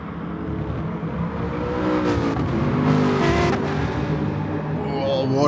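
Aston Martin and BMW race cars at Interlagos in a racing video game, engines droning and revving steadily up close, pitch rising and falling as the cars accelerate, with no commentary heard.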